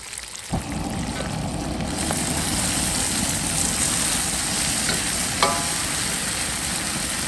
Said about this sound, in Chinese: 酸菜比较多，看着它就把酸菜炒一下。